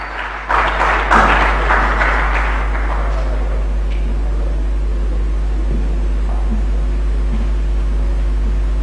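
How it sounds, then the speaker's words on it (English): An audience at a formal Ghanaian government briefing on rebuilding the economy gives a round of applause, a swell of clapping that peaks early and fades over a few seconds above a constant low hum. "Please give her a round of applause."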